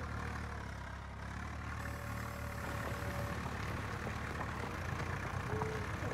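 Swaraj 744FE tractor engine running in Farming Simulator 19, a steady low diesel rumble that holds throughout at moderate level, with no talk.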